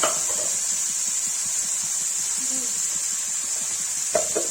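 Tomatoes, onion, garlic and ginger fry in a pan with a constant, bright sizzle, close up, broken by a few soft stirring scrapes and a brief clink near the end.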